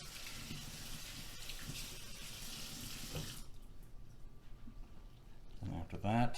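Tap water runs steadily as RC nitro engine parts are rinsed under a hot faucet. The splashing hiss stops partway through and gives way to quieter handling noises.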